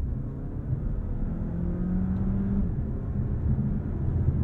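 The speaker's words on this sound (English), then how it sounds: "Some tire spin." A Dodge Hornet R/T launches hard in sport drive mode with some tire spin, heard from inside as a steady, loud low engine rumble and whir with a rising note as it accelerates.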